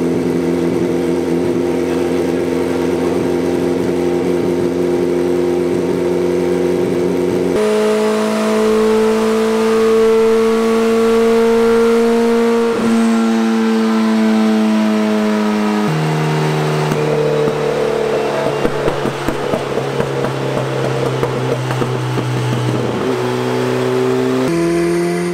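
A turbocharged Monkey Bus motorbike revs hard on a dynamometer, its engine stepping up through sustained loud whining gears in long pulls, with crackling bursts near the end.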